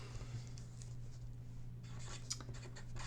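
A pen scratches words onto paper during a craft session, soft and close, with a steady low hum underneath and a brief cluster of louder strokes near the end.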